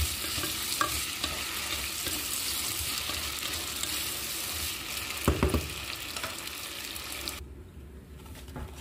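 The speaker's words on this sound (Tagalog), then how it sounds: "Ito na pang gisahin. Gisa na to sa aming kadali." Potatoes sautéing in a pan, giving a steady close sizzle with stirring scrapes and a louder clatter about two-thirds through, cut off by a sudden quiet at the end.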